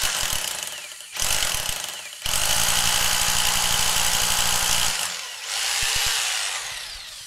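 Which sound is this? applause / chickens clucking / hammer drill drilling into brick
hammer drill drilling into brick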